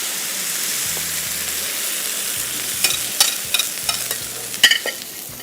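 An egg fries in a pan over high heat, giving a steady hiss with sharp pops and crackles clustering toward the end, close and moderately loud, with no talk.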